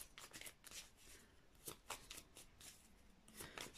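Tarot cards shuffled by hand during a reading, a quiet, close run of repeated riffling and sliding flicks with no talking.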